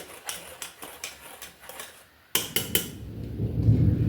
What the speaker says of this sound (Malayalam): ഒരിക്കൽ കൂടി ഒന്ന് നന്ന നല്ലോണം മിക്സ് ചെയ്ത് കൊടുക്കണം ഈ വിസ്ക് വെച്ചിട്ട്